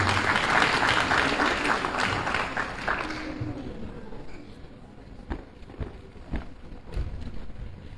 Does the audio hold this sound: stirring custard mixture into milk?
no